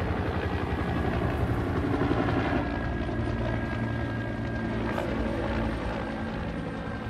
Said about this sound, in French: C'est des hélicoptères de transport de troupes.